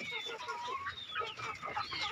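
Free-range chickens clucking near a coop, a busy cluster of close, overlapping clucks and soft calls, moderately quiet.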